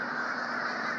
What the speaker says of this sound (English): Bird like crazy, eh?